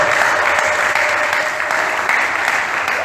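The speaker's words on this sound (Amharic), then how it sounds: "አጨብጭቡ ለእግዚአብሔር" A church congregation at a sermon applauds, a steady, loud wash of many hands clapping that holds without a break from start to finish.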